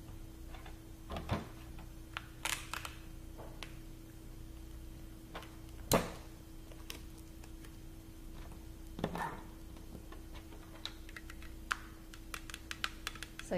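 Small tapping and ticking contacts as string is stretched across the back of a CD and taped down end to end, scattered light clicks with a few sharper knocks, close and quiet, with no voice.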